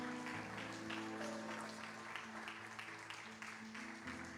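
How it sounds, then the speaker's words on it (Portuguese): A church congregation claps together in dense, steady applause that carries on throughout, with sustained keyboard tones and faint voices underneath. "Pode dar uma salva de palmas para Jesus."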